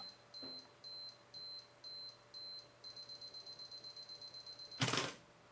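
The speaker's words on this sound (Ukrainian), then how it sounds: "Так, автоспуск на 10 секунд." A Canon A-2E (EOS-5) film camera's 10-second self-timer beeps on its own: evenly spaced high electronic tones that speed into a rapid run of beeps, ending in a sharp mechanical shutter release.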